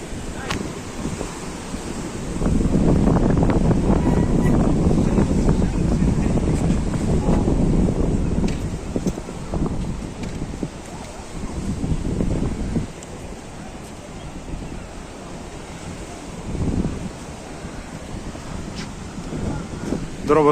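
Heavy storm surf surges and crashes over a breakwater in Odesa in repeated waves, with strong wind buffeting the microphone throughout.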